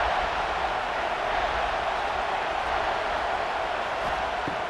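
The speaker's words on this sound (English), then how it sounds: "This crowd is trying to inspire this defense to make a big red zone stop." Steady, dense roar of a stadium crowd at an Ohio State versus Michigan game in College Football 26, a constant wash of noise with no break, loud and even throughout.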